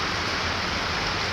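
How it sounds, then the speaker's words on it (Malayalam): Heavy rain pours steadily at night during a power cut, a dense continuous hiss close by with no other sounds. "നല്ല മഴ പെയ്തോണ്ടിരിക്കുക"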